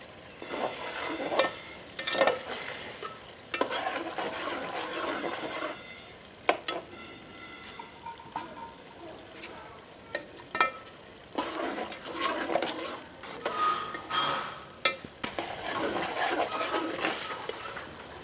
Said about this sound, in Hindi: माशाल्लाह 2-3 मिनट के लिए और भूनेंगे।